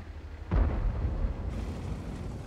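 An artillery shell bursts in a tank video game with one loud, deep, booming explosion, followed by a rumbling tail that slowly fades.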